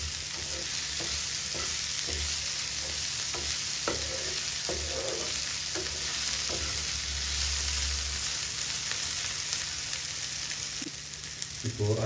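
Finely chopped ginger fries in a pan for a mixed legume and peanut gravy, with a constant hissing sizzle and a series of regular spatula stirring knocks.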